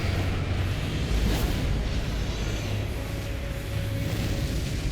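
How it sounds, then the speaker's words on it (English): A boss in the Elden Ring video game unleashes a fire breath attack: a loud, continuous roaring rush that holds steady for several seconds with deep rumbling underneath. "Just fire breath."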